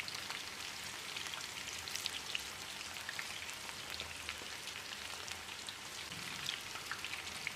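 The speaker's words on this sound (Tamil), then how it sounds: "இப்போ இதை எண்ணெயில் பொரிச்சு எடுத்துடலாம்." Roadside-style mushroom pieces deep-fry in a batch of hot oil, giving a continuous crackling, rain-like sizzle that stays steady and near throughout with no voices.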